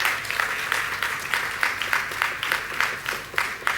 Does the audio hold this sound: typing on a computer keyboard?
no